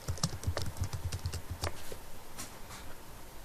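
Fingers type on a computer keyboard in a quick burst of close, crisp key clicks, then slower scattered taps fade out over a quiet room, with no voices.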